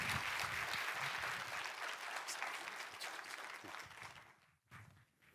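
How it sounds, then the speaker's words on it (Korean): A church audience claps to welcome a World Vision chairman as a guest speaker, sustained applause filling the room before fading and breaking off, with a brief burst resuming at the very end. "박수로 환영해 주십시오"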